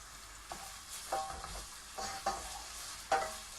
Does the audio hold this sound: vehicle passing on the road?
no